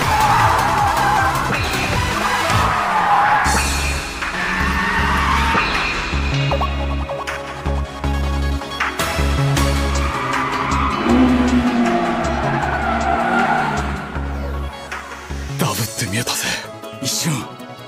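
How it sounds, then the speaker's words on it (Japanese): A car makes an ultra-fast four-wheel drift through a hairpin in the anime MF Ghost. A roaring engine and long tire squeals run under excited commentary, with a sudden burst of screeching near the end. "藤原匠の超高速四輪ドリフト。"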